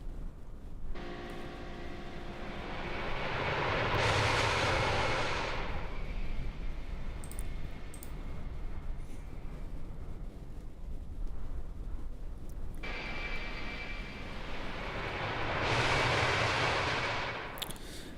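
Airliner engine roar from an iniBuilds A330 in MSFS 2024 during a flyby, a loud broadband rushing drone that swells and fades twice, steady and alone.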